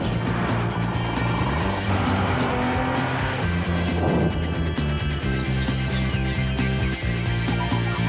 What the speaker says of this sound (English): The V6 Nissan Altima, North American Car of the Year.